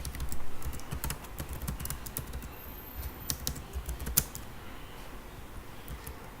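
A computer keyboard clicks under quick, uneven bursts of typing as PHP code is written, with irregular taps and short pauses at close range.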